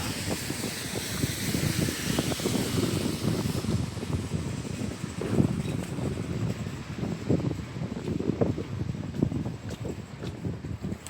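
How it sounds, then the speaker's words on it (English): Strong wind gusting and buffeting the microphone on Spring Garden Road, a rough, roaring rumble that rises and falls with no voices heard. "It is windy"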